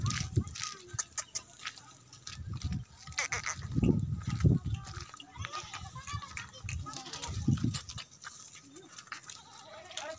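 White Tapri goats bleating at close range on a farm, several short calls scattered among livestock noise while people talk nearby.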